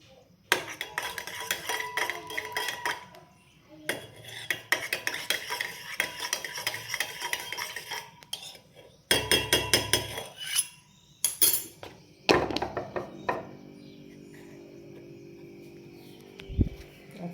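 A spoon stirs honey and lemon in a glass, with bursts of clinking and scraping against the glass separated by short pauses, close and fairly quiet, with no talking.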